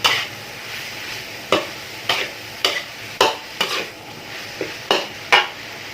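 Thai curry paste frying with wild boar pork in a pan, a low steady sizzle punctuated by about nine sharp, evenly spaced scrapes and clanks of a spatula stirring the meat, close by.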